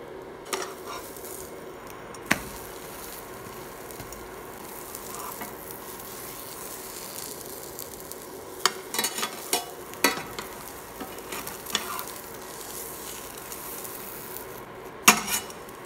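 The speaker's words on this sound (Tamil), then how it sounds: "நீங்கள் இந்த மாதிரியே 2 சைடும் கொஞ்சம் தீ குறவாகவே வச்சு டோஸ்ட் பண்ணி எடுத்துக்கலாம்" Bread toasting in a pan over a low flame gives a faint, steady sizzle, broken by a few light clinks and taps of a utensil against the pan.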